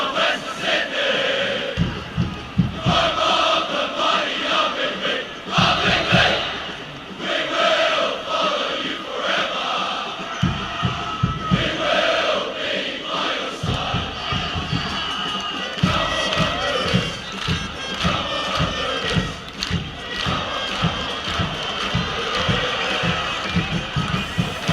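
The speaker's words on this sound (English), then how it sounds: "the crowd sounds just as exhausted too here" Crowd cheering and roaring in a Blood Bowl fantasy football video game match, a steady dense stadium din with rhythmic thumps and swells running throughout, fairly loud and continuous.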